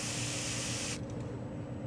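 A Mr. Hobby Procon Boy PS-290 airbrush spraying paint: a loud, close, continuous airy hiss that stops sharply about halfway through, leaving faint room noise.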